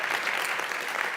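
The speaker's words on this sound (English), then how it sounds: "Clap if you believe so." Dense, steady applause from a large convention audience fills the room, loud and even throughout without any break.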